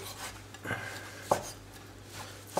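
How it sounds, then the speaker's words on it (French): A knife chops boiled beef into small pieces on a board, with a few sharp separate knocks spread over a quiet kitchen background. "Donc, la viande débarrassée des morceaux de gras, on va la couper"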